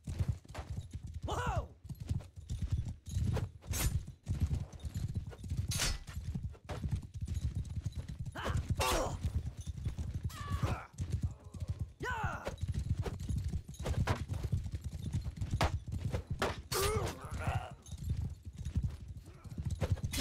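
Galloping horse hooves in the Mount and Blade 2: Bannerlord multiplayer video game, a steady rapid clip-clop running throughout amid battle noise, with someone talking over it.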